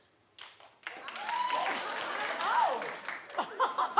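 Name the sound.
audience clapping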